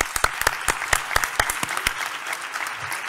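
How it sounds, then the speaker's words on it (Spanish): Applause in a legislative chamber during the swearing-in of new magistrates, a brief burst of clapping with a few sharp, distinct claps over a steady patter. "Un aplauso."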